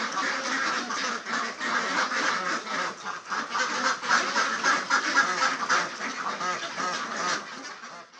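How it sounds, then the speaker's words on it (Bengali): A flock of domestic ducks quacks steadily and continuously, many overlapping calls forming a close, dense chorus throughout. "দলবদ্ধভাবে হাঁসের ডাক কেবল একটি প্রাণীর শব্দ নয়"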